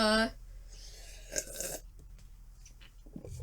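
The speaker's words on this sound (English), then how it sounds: "Whoa, sorry about that burp." A single short, low burp from a man sitting on a couch opens the moment, followed by faint room noise and small rustles.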